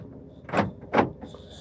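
The rear trunk door of a 2020s Toyota Calya E M/T is shut: two distinct thumps about half a second apart, close and fairly loud, followed by a faint rattle.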